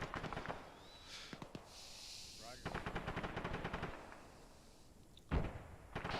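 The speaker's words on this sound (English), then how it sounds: "sending suppressive rounds over your head" Suppressive machine gun fire in Arma 3 rattles out in several rapid bursts, loud and close, with scattered single shots and a heavy impact between them over a noisy battlefield backdrop.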